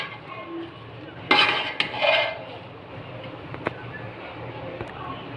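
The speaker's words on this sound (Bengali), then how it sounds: "এবার মুই খিচড়িগুলো ভালো করে লাড়ি।" A spoon stirs khichuri in a cooking pot, giving a short burst of clinking and scraping against the metal, followed by a few lighter taps over quiet background noise.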